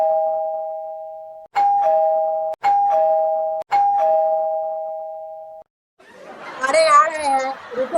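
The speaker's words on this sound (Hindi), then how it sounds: "अरे कौन इतना जोर जोर से डोरबेल बजा रहा है?" A cartoon doorbell rings four times in quick succession, each a loud sustained two-tone chime cut off abruptly, followed by a burst of excited, overlapping chattering voices.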